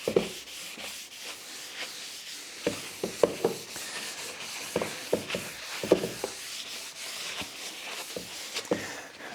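Cloth rubbing oil finish into a cherry wood monitor stand with hand-cut dovetails, a steady close scrubbing swish with repeated sharper strokes and occasional knocks throughout.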